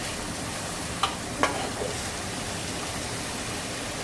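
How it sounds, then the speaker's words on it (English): Oxtail fries in coconut oil in a pan, a continuous close sizzle with a couple of sharp pops or stirring knocks near the start, no talking. "I'm just gonna let this fry."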